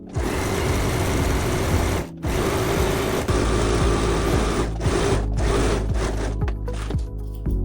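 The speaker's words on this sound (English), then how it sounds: "sew 2 rows of basting stitches along the upper edge, either by machine or by hand" A sewing machine runs two rows of basting stitches along the edge of a dress panel, giving a steady fast whirring hum with a few brief pauses and stops.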